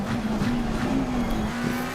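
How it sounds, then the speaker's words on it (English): A McLaren 720S engine in Assetto Corsa Competizione at Spa drones loud and steady near redline, its high tonal whine holding under a broad rush of road and tire noise, with no talk. "you hear the engine protest"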